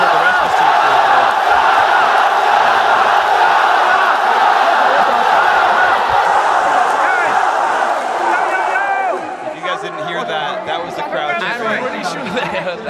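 Crowd cheering at a League of Legends esports event, a dense loud roar of many voices that dips slightly toward the end, with commentators talking over it.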